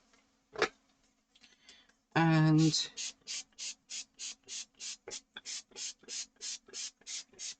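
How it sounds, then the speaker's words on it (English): After a brief spoken word, a spray bottle hisses water onto paper in quick, even bursts, over a dozen short sprays in a steady rhythm, close and fairly loud. "what I am going to do first is spray my paper"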